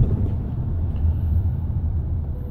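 A VW Passat 1.6 FSI running on LPG climbs a ramp, its engine a steady low rumble heard from inside the cabin, continuous and fairly loud with no talking.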